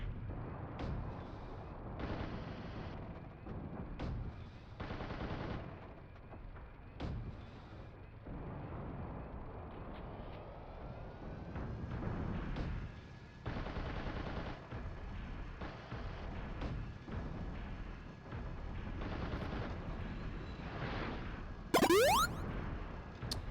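Gunfire from mech cannons in Steel Battalion: repeated heavy bursts and booms every second or two over a constant engine-like drone, with a rising whine near the end.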